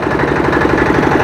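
A 10 kW handle-start diesel generator with a 14 HP air-cooled engine runs steadily, giving a loud, close, continuous engine drone with a fast regular throb and no voices over it.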